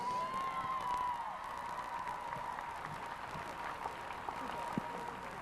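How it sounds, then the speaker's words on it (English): Crowd at a state high school football championship ceremony claps in a fairly faint, steady wash of applause, with a public-address voice echoing briefly at the start. "Let's give a round of applause for the Langdon Munich Cardinals."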